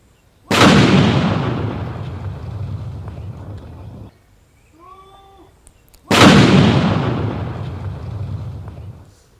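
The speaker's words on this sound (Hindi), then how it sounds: "बम को डिफ्यूज करने के दौरान जोरदार धमाका भी हुआ।" A bomb being defused by security personnel goes off in two loud, booming blasts several seconds apart, each with a long rumbling decay, separated by a brief quieter gap.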